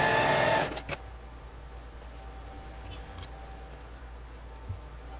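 A domestic sewing machine topstitches close to the edge of a costume seam, starting with a brief loud burst of stitching that stops, followed by a quiet hum and faint small clicks.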